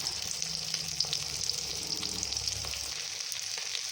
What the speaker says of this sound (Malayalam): ഇതിപ്പോൾ ഇതെല്ലാം തേച്ച് വെച്ചിട്ട് നമ്മൾ ഫ്രൈ ആക്കുകയാണ്.